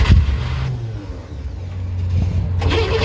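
A Chevrolet Corvair engine rumbles loudly at close range, with a low throaty idle and rising revs at an outdoor car show.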